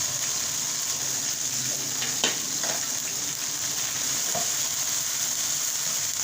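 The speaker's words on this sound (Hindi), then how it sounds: "जब तक फ्राई करेंगे जब तक इसका कलर चेंज हो जाए" Chicken frying in a pan, a continuous close sizzle with a couple of light clicks and scrapes from stirring, no voices.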